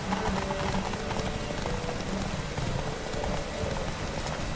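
Horse hooves gallop in The Witcher 3 video game, a steady, fast clip-clop rhythm running unbroken from start to finish at moderate loudness, with faint game ambience behind it.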